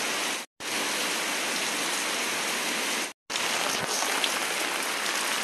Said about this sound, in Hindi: बाहर यार बहुत तेज़ बारिश हो रही है, बहुत ही ज़्यादा तेज़